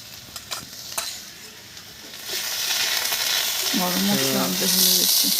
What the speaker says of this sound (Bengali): একবারে সেকেন্ডের মধ্যে আলু ভাজা হয়ে গেল